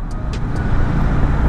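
Road traffic rumbles around a rider on a Honda CB150X motorcycle, a dense low roar of nearby vehicles and engine, with a few short high-pitched squeaks early on.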